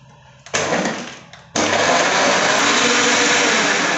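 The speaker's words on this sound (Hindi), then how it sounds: "और इसको हम कर लेते हैं चर्न।" A blender churns a banana shake, a loud, steady whirring roar that starts, stops briefly after a second, then runs on continuously at full volume.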